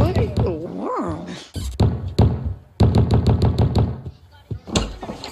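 Knocking on a door in a Simpsons cartoon scene, a few sharp raps heard between and over talking voices and mixed with some dog-like yelps.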